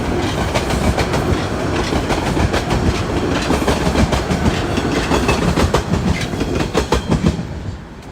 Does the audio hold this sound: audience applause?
no